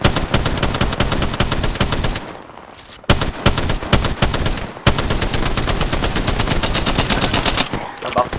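Rapid automatic gunfire from an Apex Legends match, loud dense bursts of shots with a short lull around the middle, then continuous firing resumes to the end.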